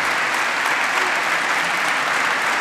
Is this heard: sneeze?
no